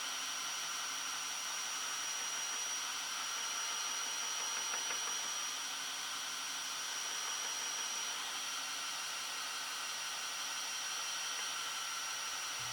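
A belt grinder with a VSM structured abrasive belt grinds a knife blade, giving a continuous, even whirring hiss that stays constant and loud from start to finish with no pauses.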